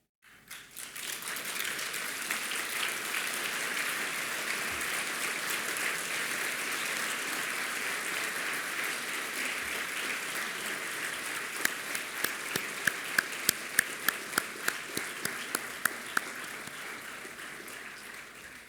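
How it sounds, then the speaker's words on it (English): Sustained audience applause at a university ceremony opening address, a dense wash of clapping from a large crowd that holds steady for many seconds, then thins into scattered individual claps before fading. "stand up and applaud all of this community that are here and elsewhere to support you"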